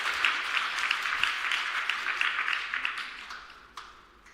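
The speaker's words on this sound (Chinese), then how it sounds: "我们用热烈掌声来欢迎他" Applause from a church congregation welcoming a high school student speaker at a Sunday service, with a warm, moderately loud burst of many hands clapping that gradually thins and fades out, no talking.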